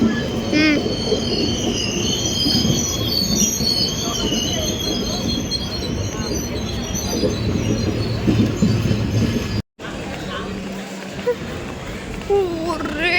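A train rumbles and clatters past at close range, wheels squealing on the rails, while people talk loudly over the steady mechanical roar.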